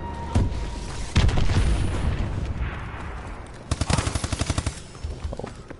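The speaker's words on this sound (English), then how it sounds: "Enemy UAV missile strikes incoming." Missile strikes and gunfire in Advanced Warfare multiplayer: heavy booming blasts rumble throughout, followed by a rapid burst of close machine-gun fire, all loud and dense.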